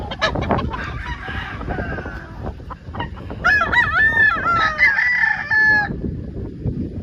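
A rooster on a gamefowl farm crows loudly and close by, a long drawn-out call after a stretch of clucking and other fowl noise.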